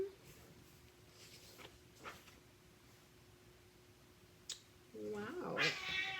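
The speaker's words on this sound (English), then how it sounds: "No fight. No cat fight." Cats fighting indoors, with a burst of yowling and caterwauling near the end after quieter stretches holding a few faint cries and a steady low hum.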